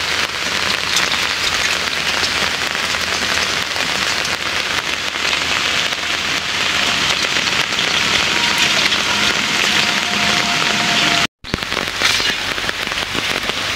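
Heavy rain falls steadily through a Sundarbans forest, a dense continuous hiss of drops on leaves and surfaces that holds level throughout, broken only by one brief cut near the end.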